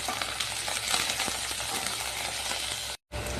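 Onion, dried chillies and curry leaves sizzle and crackle steadily in hot oil, stirred with occasional scraping clinks against the pan, close and continuous before a brief cut.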